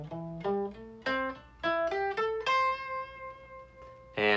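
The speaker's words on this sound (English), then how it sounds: "it's the pentatonic scale" A pentatonic scale picked on guitar, single clean notes rising one after another in a steady, unhurried rhythm; the last note rings out and is held, then a brief bright attack ends the run.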